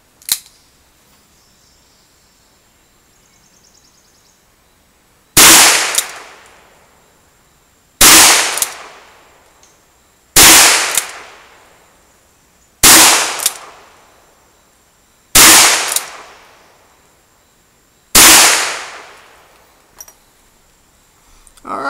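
A Ruger Single Six revolver fires at a target about 12 yards away: six sharp, loud shots roughly two to three seconds apart, each cracking and then fading, with quiet gaps between them and a faint click near the end.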